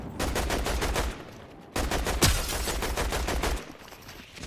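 Rapid automatic gunfire rattles in a battle royale video game, two long rhythmic bursts separated by a brief pause, with one sharper loud shot cutting through, close and prominent with no talk.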